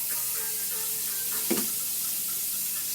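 A kitchen faucet runs in a steady hiss of water to rinse freshly cut yam, with one brief knock of the yam against the sink partway through.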